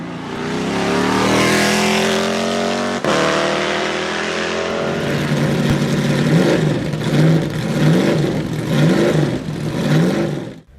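A Saleen S7 supercar engine revs hard and loud, holding a long high-pitched wail before dropping into a series of rhythmic rising and falling rev bursts, heard close and alone.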